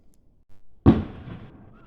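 A single New Year's firework bursts with a sharp, fairly close bang, followed by a short crackling decay, heard after a couple of faint low thumps in otherwise quiet surroundings.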